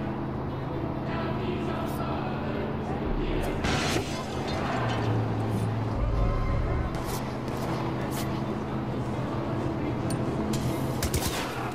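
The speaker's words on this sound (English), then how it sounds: "That was a firework." In the video game Far Cry 5, several sharp bangs and pops from fireworks cut through a dense, noisy mix of background effects and engine-like hum, loud and fairly close.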